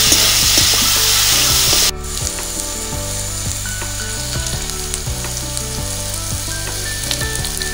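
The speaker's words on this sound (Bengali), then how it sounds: "বিনস আর আলুটা আমার অর্ধেক ভাজা হয়ে গেছে।" Beans and potatoes sizzle in a pan while being stirred, a bright hiss at first that settles into a steady frying crackle with repeated scraping strokes of a spatula.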